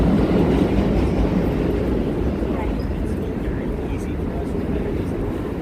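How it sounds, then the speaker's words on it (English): New York City subway train rumbling through an 8th Street station for the R and W lines, a dense continuous low roar filling the space, fairly loud and steady throughout. "the train, the subway."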